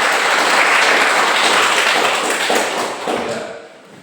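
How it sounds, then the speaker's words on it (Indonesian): Classroom applause from students, a dense, loud wash of clapping that holds for a few seconds and then fades out quickly. "Ya, tepuk tangan dulu untuk sini."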